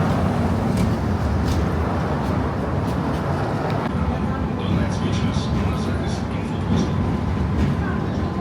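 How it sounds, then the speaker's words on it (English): Loud steady rumble of a train at Lviv main railway station, a dense continuous roar with faint clanks and squeals over it, while a voice talks briefly in the background. "My train to Kharkiv has already arrived"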